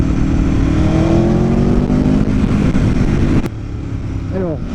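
An Aprilia Tuono V4 APRC 1100 motorcycle engine roars loudly and close, its pitch climbing steadily before cutting off sharply and dropping to a lower, quieter running drone, with wind buffeting throughout.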